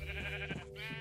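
A sheep in the game Minecraft gives one short, close, wavering bleat with nothing else around it.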